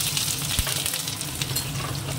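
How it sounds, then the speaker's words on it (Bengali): Onion with dried red chillies fries in oil in a wok, a dense continuous crackling sizzle up close, with light stirring scrapes mixed in. "পেঁয়াজটা একটু ভাজা হোক"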